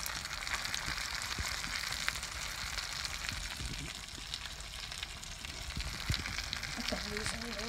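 Small pieces of freshly caught saltwater fish sizzle steadily in a hot pan, a dense continuous crackle of frying with faint clinks and movement mixed in, close up.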